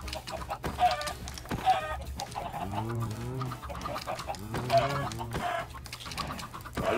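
Minecraft chickens clucking in repeated short bursts, with clear clucks and a couple of longer calls, fairly close over quiet game ambience, with no speech.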